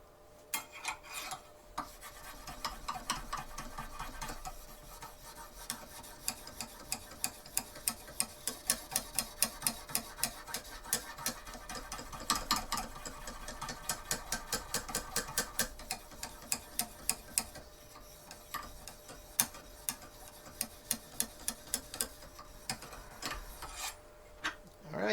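A knife blade is honed on a fine Lansky finishing stone in long runs of rapid, close rubbing strokes, with sharp ticking clicks that grow more distinct toward the end.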